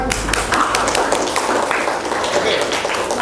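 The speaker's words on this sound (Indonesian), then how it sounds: "Ya, tepuk tangan." A classroom of students applauding during an open civics class, a close, lively burst of many hands clapping in a fairly dense patter that carries on briefly without speech.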